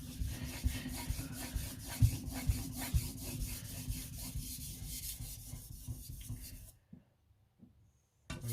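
An AEBL steel knife blade is rubbed against a wet sharpening stone just behind the edge, a rapid rhythmic scraping of repeated strokes that runs close and steady before stopping abruptly into near silence, then a brief final scrape.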